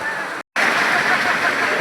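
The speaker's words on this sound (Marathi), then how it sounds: "आपल्याला छोटासा धबधबा भेटतो" Small monsoon waterfall near Mumbai rushing in a dense, continuous white-noise roar, close and loud, broken by a brief dropout of silence before the steady splashing resumes.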